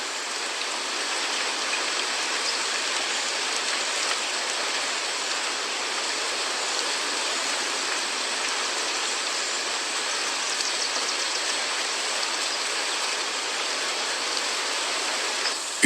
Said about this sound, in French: la pluie baissant en intensité